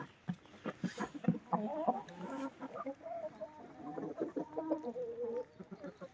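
Hens in a backyard coop cluck and murmur continuously at close range, a busy overlapping stream of short clucks and low throaty calls with no talking.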